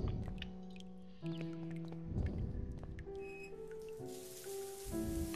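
Tap water running in a bathhouse in the video game The Last Door, a soft rushing hiss rising toward the end beneath sustained, eerie game music tones.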